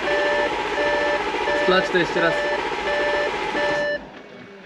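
An Audi S4 B9 with an immobilizer fault gives a series of evenly spaced electronic warning beeps during a start attempt, stopping abruptly near the end, while a person speaks over them.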